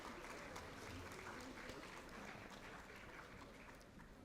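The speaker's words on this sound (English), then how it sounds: "with a round of applause" Faint, steady applause fills a hall at a technical session of a professional branch meeting in Bangalore, a soft continuous patter heard from some distance, slowly easing toward the end.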